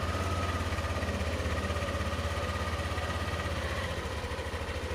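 A motorcycle engine idles steadily and close by after a restart, a continuous rumbling drone with a regular low pulse and no talking.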